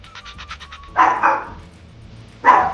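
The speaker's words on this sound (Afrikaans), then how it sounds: "sien hy vir Vlekkie, die hondjie voor die deur lê" A small dog lets out two sharp, loud barks spaced about a second and a half apart. A short high pulsing tone comes just before the first bark.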